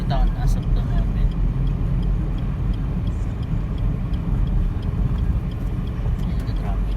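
Road traffic rumbling steadily around a Suzuki S-Presso AGS car, heard from inside the cabin on a city road, a constant low drone with faint ticks, while a person talks throughout.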